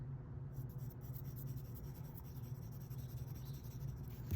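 A pencil shading layers on paper in a drawing exercise, a soft steady scratchy rubbing heard close and continuous, with low background hum and no voices.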